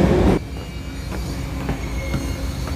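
A train moves through a station with a steady rumbling roll and faint wheel squeal, while a brief louder noise comes at the very start.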